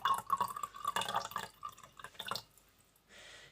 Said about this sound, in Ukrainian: І тепер ми до олії трішечки додаємо нашої водички.